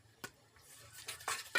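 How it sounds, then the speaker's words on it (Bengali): Onions and ginger-garlic paste stirred in a pan with a spoon, heard as a few faint, sparse scraping clicks over a quiet background. "পেঁয়াজ আর আদা রসুন বাটাগুলো দিয়ে আমি ভালো করে নেড়ে চেড়ে হালকা ব্রাউন কালার করে নিচ্ছি"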